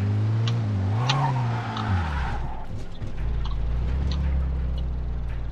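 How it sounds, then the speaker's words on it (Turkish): A car in Mafia 2 brakes suddenly, its engine note dropping as the tires squeal and skid for a couple of seconds. A steady low engine hum with faint rattles follows. "Bak frene falan basıyor aniden."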